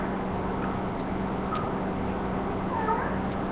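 A cat meows a couple of times, faint and short against steady background noise, with a few brief higher cries near the end.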